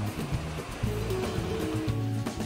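Sea waves wash steadily onto a clean, quiet beach at Kashid around sunset, a continuous close surf roar with a faint low hum beneath and no voices.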